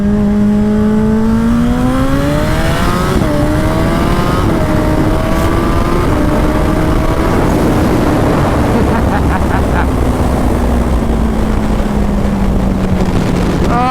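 A 300HP turbocharged Suzuki Hayabusa motorcycle pulls hard in first gear, its engine note climbing steadily in a loud, continuous roar with rising harmonics, then easing back, heard close over heavy wind rush.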